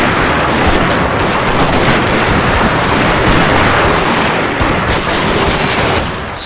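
Gatling guns fire in Total War: Shogun 2 as a loud, dense, rapid stream of crackling shots that continues steadily almost without pause before tapering off at the end.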